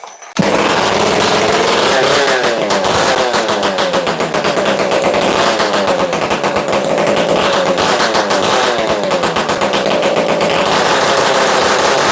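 A Makita DCS540 chainsaw engine runs steadily and loudly for the whole stretch, starting almost at once and holding a dense, buzzing drone without a pause.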